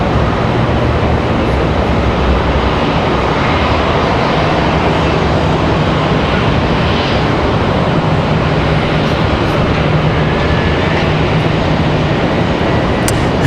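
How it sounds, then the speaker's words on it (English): A Delta Boeing 737-800 landing at Raleigh-Durham airport, heard as a loud, steady broadband jet roar that fills the whole stretch without easing, with no voices over it. "This is going to be another 737-800. So Delta's going to come off the runway right here."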